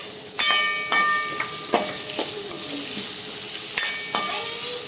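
Tomatoes sizzle steadily in a hot pan while spicy Marathi-style dal is cooked, with sharp metallic clinks of a spoon stirring against the pan every second or so. The sizzle is close and continuous.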